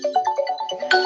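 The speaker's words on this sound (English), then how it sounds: "that's my alarm" A phone alarm rings in a quick melodic ringtone, a rapid run of bright tones that is loud and close and lasts about a second, with no talking over it.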